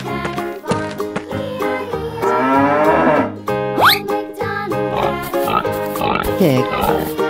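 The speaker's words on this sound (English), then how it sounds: "Pig." A pig grunts and squeals amid a busy mix of farm animal calls, loud and close, with several overlapping sounds over about seven seconds.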